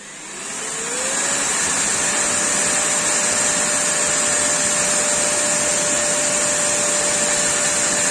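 Air blower forcing air through a flat nozzle 26 mm wide and 5.5 mm high, rising over the first second into a loud, steady, close roar with a constant whine running through it.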